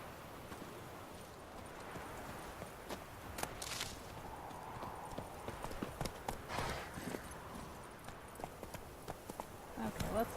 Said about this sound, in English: Okay, let's head off, Roach. Giddy up